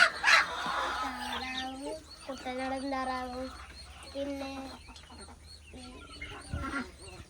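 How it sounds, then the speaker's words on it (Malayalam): Chickens cluck and call at a new poultry farm that also keeps ducks and native spotted hens, with several overlapping birds close by and fairly loud throughout. "വികവ താറാവ്, പിന്നെ നാടൻ കോഴികൾ, പുള്ളിക്കോഴികൾ, അങ്ങനെ എല്ലാം ഉണ്ടല്ലേ?"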